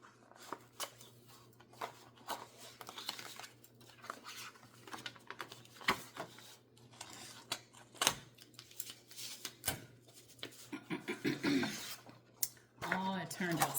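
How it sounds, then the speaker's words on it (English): Heat tape being peeled off a sublimation craft project, with scattered crinkly rips, taps and rustles, close and fairly quiet, ending in a quicker run of tearing. "Let's go ahead and take this heat tape off."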